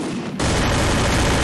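Rapid gunfire from a shooter video game rips out in a loud, dense burst after a brief pause, continuous automatic shots filling the moment with no talk.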